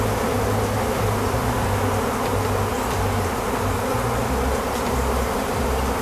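Honey bees swarm over freshly extracted honey frames left on the ground outside, a dense, steady buzzing drone that fills the whole stretch without pause, close and continuous with no voices.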